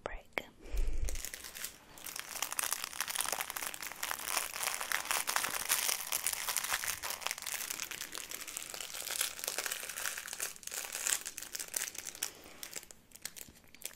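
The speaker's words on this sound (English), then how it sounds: "this entire panel here is made of a crinkly fabric" A baby toy's crinkly fabric panel is squeezed and rubbed right against the microphone, making continuous dense crackling and rustling for the whole stretch, with soft whisper-like breath faintly underneath.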